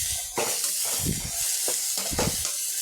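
Steady sizzling of cauliflower frying in a pan, with a few bursts of stirring and scraping, close and moderately loud.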